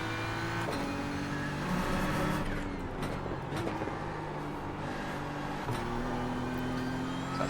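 A GT3 race car in iRacing at Brands Hatch drones loudly as its engine climbs through the revs, with several clear upshifts dropping the pitch before it rises again.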